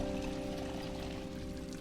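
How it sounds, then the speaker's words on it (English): Water pours steadily from a rain barrel in the Project Zomboid video game, a continuous close gushing stream with a faint hum beneath, no talking. "So there we are, running water."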